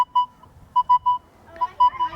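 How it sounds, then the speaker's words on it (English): Short electronic beeps at a steady pitch from a Nokta Legend metal detector come in uneven clusters, some doubled, close and fairly clear over a quiet background. "Almost sounds like multiple beeps, doesn't it?"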